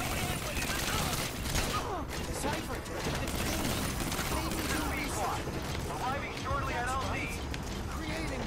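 Gunfire crackles in Metal Gear Solid V: The Phantom Pain as a dense run of shots and mechanical clatter, heard under someone talking throughout.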